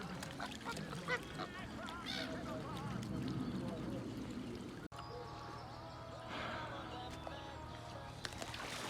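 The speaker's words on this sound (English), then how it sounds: "we finally find the goddamn ducks, aka swans mainly" Ducks and swans being fed bread outdoors, scattered quacks and honks rising from the birds while a person talks over them.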